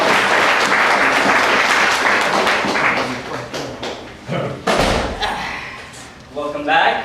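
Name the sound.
audience applauding a panel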